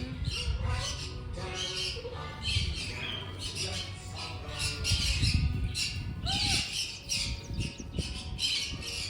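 Birds, including a white peacock, squawk and call repeatedly at a farm park. Loud, close cries overlap with a steady jumble of other bird noise and some faint voices.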